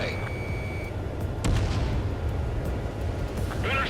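A fighter jet's missile launches with a sharp whoosh and burst in Ace Combat 7, set against a dense roar of combat noise with a high tone fading early.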